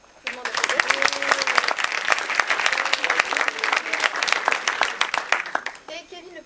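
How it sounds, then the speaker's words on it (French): Loud, dense audience applause for a jury member at an ESCP and ESSEC student debate event, with sustained crowd clapping filling most of the span before it tapers off at the end. "Je vous demande d'applaudir."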